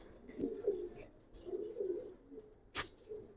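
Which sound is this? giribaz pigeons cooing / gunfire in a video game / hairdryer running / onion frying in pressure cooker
giribaz pigeons cooing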